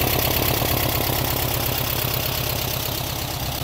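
A car engine idles steadily and loudly up close with a dense, continuous rumble and a faint knocking rhythm, no talk over it.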